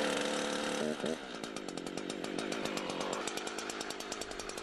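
Chainsaw cutting a tree, its blade longer than the trunk's diameter: a sustained buzzing engine snarl with a brief dip near the start, then steady cutting with a rapid pulsing rasp.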